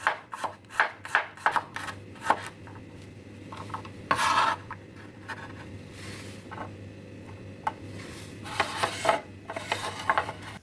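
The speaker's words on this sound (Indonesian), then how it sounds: "3 siung bawang putih diiris-iris tipis juga." A knife thinly slicing shallots and garlic cloves on a cutting board, heard as a quick series of close, crisp cuts, then slower scraping and rasping strokes and scattered taps, with no talk.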